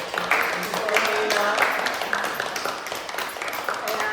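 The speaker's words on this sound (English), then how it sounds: "I think a round of applause for Rose." An audience claps for Rose at a gathering at Haymarket House, steady applause with voices and chatter over it throughout.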